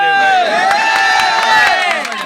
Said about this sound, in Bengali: পরমের জন্য হাততালি হবে